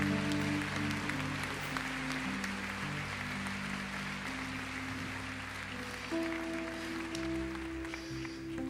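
Church congregation applauding in worship, with continuous soft clapping beneath a sustained organ or keyboard chord that shifts partway through.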